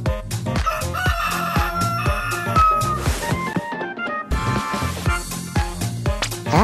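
A rooster in a video game lets out a stretched crow over rhythmic, percussive game music that keeps playing throughout.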